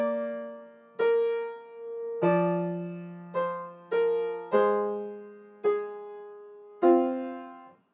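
Piano playing a piece with both hands, a slow run of about eight struck chords with a sustained bass note and each one ringing into the next, played alone and clearly.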